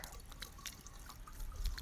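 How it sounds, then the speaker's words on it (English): Water poured by hand into the priming opening on top of a shallow well pump, heard as a close, continuous wet splashing and trickling lasting just under two seconds, with no talking. "You take this top cap off and you just put water in there."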